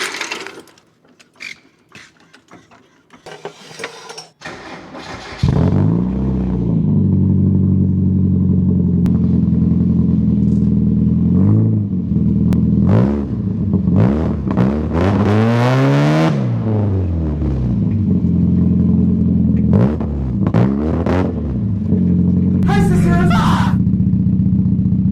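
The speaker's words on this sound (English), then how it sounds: "With the car running just as bad as it did before" A cheap junkyard Mazda Miata engine fires up after a few seconds of clattering and handling noise, then runs loud and close with a steady, uneven drone that continues to the end.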